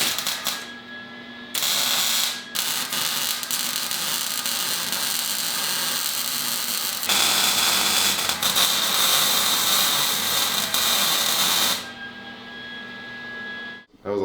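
Steady crackling, buzzing hiss of a welder fusing exhaust pipe on a 1995 Mustang, loud and close, running in long continuous bursts with brief pauses, a faint whine riding through.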